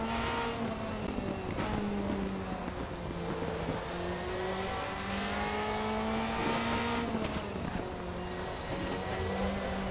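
A 2005 Mercedes DTM race car in the RaceRoom racing game: a loud, steady engine note held throughout, with its pitch rising and falling through gear changes and corners.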